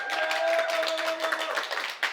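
Family members upstairs clap and cheer at an awards evening, a bright, somewhat distant patter of hands and whoops, with a steady tone underneath.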